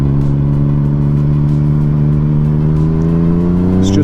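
A Yamaha MT-09 motorcycle engine revs steadily as the throttle is worked on and off, a loud, close, continuous engine drone with a slight rise in pitch toward the end, with no talking.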